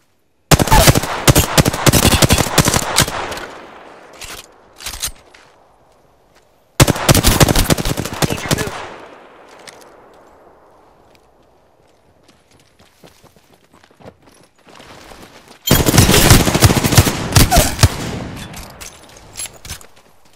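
Apex Legends gunfire, three loud bursts of rapid automatic shots separated by fading echoes and quieter gaps with scattered single shots.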